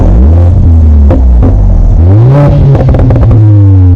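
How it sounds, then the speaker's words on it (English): A Mercedes-AMG GLA 45 exhaust revs loudly and close, rising and falling engine tones with crackling burbles between gear changes, no talking. "This car sounds amazing. Got little downshifts, little burbles coming out, burbles on the upshift."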